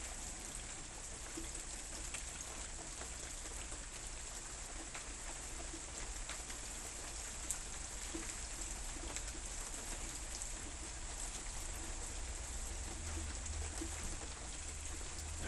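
Steady rain patters softly throughout, a faint, even hiss with scattered drips, and a bird coos quietly in the background.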